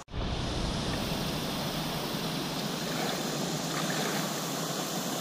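Steady, loud rush of river rapids flowing below a fishing spot, a dense continuous wash of water with no voices over it.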